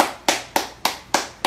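Applause at a comedy variety show, five slow, evenly spaced loud claps, close and crisp, with no other sound between them.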